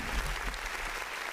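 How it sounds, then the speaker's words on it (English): A crowd applauds steadily in a podcast studio for Mike McCarthy, a dense wash of clapping that holds even for the whole moment. "Round of applause for Mike McCarthy"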